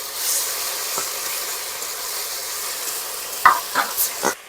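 A ground ginger, garlic and onion spice paste fries in a pan for a Bengali rohu fish curry, giving a steady sizzling hiss, with a few scraping spatula strokes near the end.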